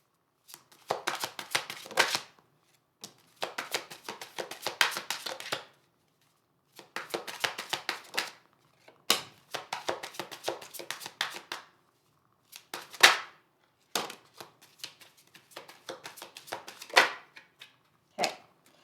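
A tarot deck is shuffled and cards are drawn, with bursts of riffling and slapping in repeated clusters separated by short pauses, close and fairly loud, and no talking.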